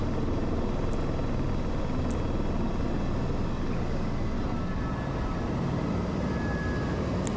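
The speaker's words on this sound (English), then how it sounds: "And there's another helicopter, see?" Helicopter flying in the Grand Canyon, a loud, steady, close rotor-and-engine roar filling the clip without a break.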